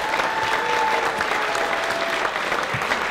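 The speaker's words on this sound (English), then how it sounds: "How about a nice round of applause one more time for all of our criers." A crowd at the Tulip Time town crier competition applauds the criers, thick continuous clapping at a steady volume, with a faint tonal whistle or ringing underneath.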